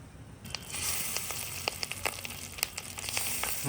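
Fritters of bitter wild greens frying in oil, a steady sizzle with frequent sharp crackles and pops close by, no talking.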